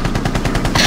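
Rapid automatic gunfire in the video game Rainbow Six Siege, a loud close burst of evenly spaced shots across under a second, no talking.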